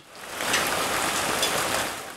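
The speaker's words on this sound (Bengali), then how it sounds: "এই ঘূর্ণিঝড়ের প্রভাবে রাজধানী সহ সারা দেশে মুষলধারে বৃষ্টি হচ্ছে" Heavy downpour from Cyclone Remal in Bangladesh, a dense, steady wash of rain hissing on surfaces, loud and close, rising from a quiet start and holding even to the end.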